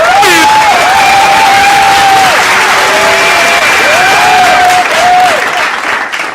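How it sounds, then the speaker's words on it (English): Hands clap in a dense, continuous run like applause, loud and close, while a voice sings or speaks over the top. "Let me give you a good clap."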